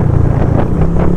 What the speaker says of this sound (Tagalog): Lakas na hangin oh.